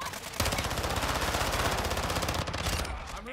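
Sustained automatic gunfire from a machine gun in a first-person shooter video game, a rapid unbroken burst emptying a full magazine, loud and close for about three seconds before trailing off.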